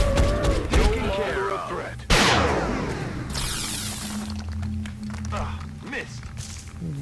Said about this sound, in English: look at those reaction shots